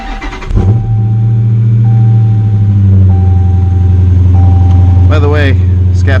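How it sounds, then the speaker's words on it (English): A Dodge Scat Pack starts with a quick crank and burst, then settles into a deep, steady idle rumble close by, with a few faint electronic beeps and a short squeak near the end. "let's start up the car"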